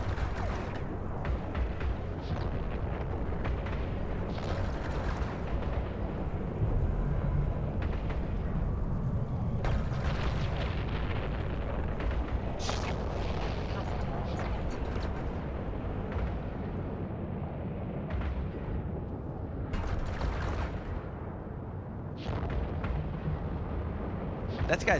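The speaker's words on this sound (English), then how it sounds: "That guy's missiles hurt." Missile impacts on a ship in the space game EVE Online, a long run of booming blasts and crackling hits over a steady rumbling backdrop, with someone speaking intermittently through it.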